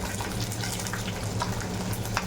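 Sliced green chilies fry in a pan over a low gas flame, giving a soft, continuous sizzle with a low background hum.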